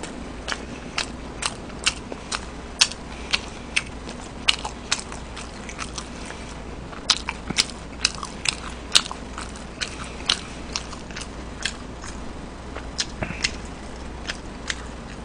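Crispy Korean fried chicken with perilla leaves being bitten and chewed up close, sharp crunches and crackles repeating irregularly throughout over a quiet background, with no talking.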